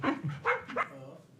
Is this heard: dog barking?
yes